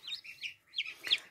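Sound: newly hatched chicks peeping in an incubator

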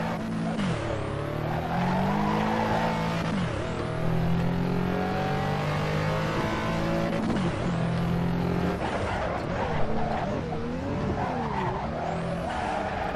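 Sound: race car driving on track in Assetto Corsa video game

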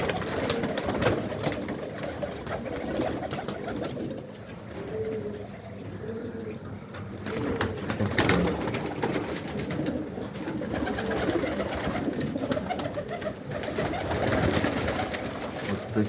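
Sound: pigeons cooing

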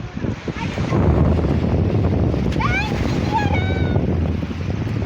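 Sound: sea waves

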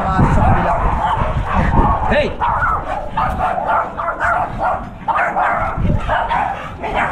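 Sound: American Bully dogs barking

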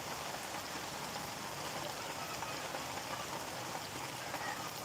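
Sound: rain falling outdoors

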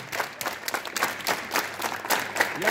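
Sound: students clapping hands

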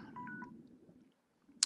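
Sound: alarm signalling that 20 minutes are up

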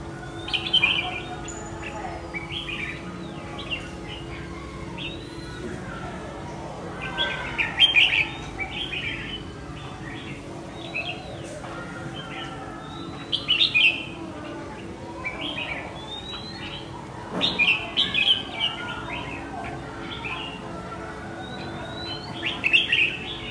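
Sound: red-whiskered bulbul calling at a decoy bird

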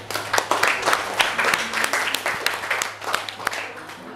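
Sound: classroom applause

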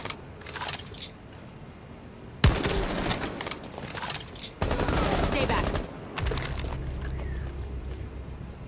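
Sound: gunfire through a window in Rainbow Six Siege video game

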